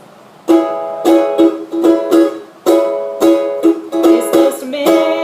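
Ukulele strummed in a rhythmic down-up pattern for a song, bright chords repeated in short, clipped bursts with brief muted gaps between groups, played close and alone.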